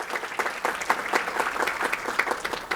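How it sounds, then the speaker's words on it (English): Dense applause from the audience at a New York City census summit opening, many hands clapping steadily and fairly loudly for the whole stretch. "give yourselves a round of applause for being here"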